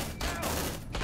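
Sentry gun firing in the video game Aliens Dark Descent, a rapid burst of automatic gunfire with sharp repeated reports over about a second, close and loud, no talk.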